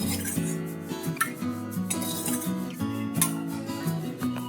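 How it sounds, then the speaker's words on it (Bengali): A metal spoon clinks and scrapes against a frying pan while scooping out cooking oil, giving a quick run of light, close metallic taps. "তেলটা আমি চামচে করে তুলে রেখে দিচ্ছি"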